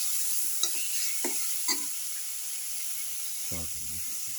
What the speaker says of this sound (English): mix the tomato pieces